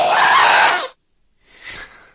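A Minecraft ghast sample wails loudly as a bright, screeching cry that cuts off sharply. After a moment of silence a second, fainter and breathier cry follows.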